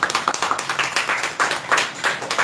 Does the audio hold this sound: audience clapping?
yes